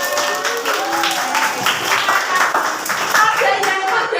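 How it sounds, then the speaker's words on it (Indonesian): A classroom of grade 6 pupils giving a round of applause, steady dense clapping from many small hands throughout, with faint voices mixed in. "silakan beri tepuk tangan"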